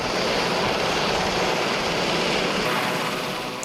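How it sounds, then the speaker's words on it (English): A British Royal Navy Sea King helicopter landing on a gravel pit, a loud, steady roar of engine and rotor wash filling the whole stretch and easing slightly at the end, heard alone with no voices. "A British Royal Navy Sea King lands on the gravel pit above Koralichi"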